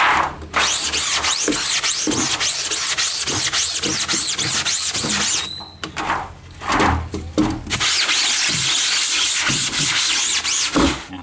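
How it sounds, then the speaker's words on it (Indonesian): A brush scrubs a screen printing screen back and forth to strip emulsion without a jet washer, making rapid rhythmic rasping strokes, loud and close, with a short pause midway. "Kita gosok bolak-balik."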